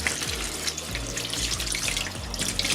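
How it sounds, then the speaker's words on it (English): Yarn being gently rinsed by hand in water, with dye running out, gives steady trickling and sloshing water close by, continuous for a few seconds with no talking. "you don't want to wring this You just want to gently rinse it"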